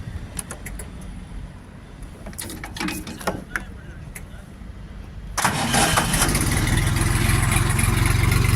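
A Jinma 244 mini tractor engine cranks and catches after a few seconds, settling into a loud, steady chugging idle close by.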